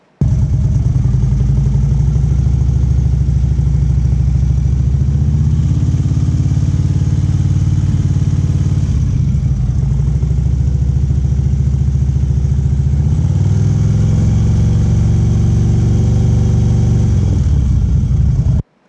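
A motorcycle engine running up close, its throttle rolled on by the rider's wrist, producing a loud, sustained drone whose pitch rises and falls in slow surges of revving over nearly twenty seconds.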